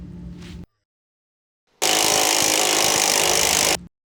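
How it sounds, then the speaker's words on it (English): An electric impact wrench with a 27mm socket removes the front leaf spring mounting bolt on a 2014 Ford F150. It gives one loud, close burst of about two seconds after a short knock and a pause. "using a 24mm open-ended wrench and a 27mm socket on your electric impact, go ahead and remove the front leaf spring mounting bolt"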